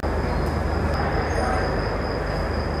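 The Jaipur-Delhi Double Decker Express standing at a station platform, a steady loud rumble and hum of the train with a constant high whine throughout.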